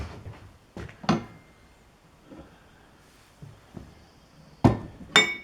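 Someone rummages through metal tools to grab a bigger wrench, producing a handful of sharp, close metallic clanks and knocks spaced irregularly with quiet gaps between them, the loudest coming near the end.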